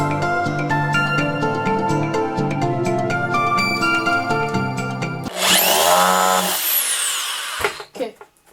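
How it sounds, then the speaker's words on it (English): A power drill whines loudly as it bites into wood, rising in pitch, after a stretch of tonal background music, then cuts out abruptly. "so now I'm going to drill the second hole"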